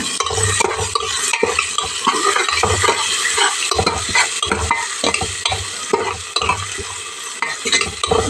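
Onions sautéing in a pan for rasam rice, stirred with a utensil in steady repeated scrapes and knocks over a continuous loud sizzle, with no talking.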